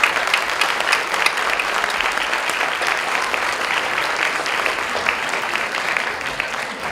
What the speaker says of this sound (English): So give him a clap as well.